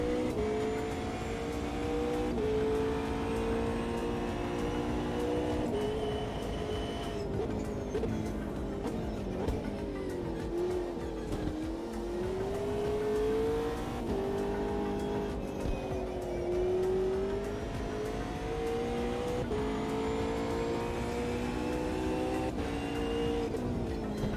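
McLaren race car engine in the Automobilista 2 racing game, droning steadily and loudly throughout, with pitch rising and falling through gear changes and acceleration, no talk over it.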